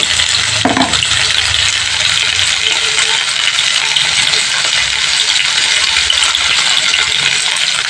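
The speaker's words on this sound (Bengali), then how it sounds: "এবার আলুটাকে আমি ভালো করে লাল লাল করে ভেজে নেব।" Potatoes with turmeric fry loudly and steadily in hot oil for alu posto, a dense close-up sizzle that runs through the whole clip, with a brief knock of utensils near the start.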